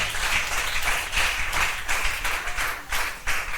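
A church congregation applauding to acclaim the Lord, heard as dense, continuous clapping from many hands in a reverberant room, pulsing in rhythmic waves throughout.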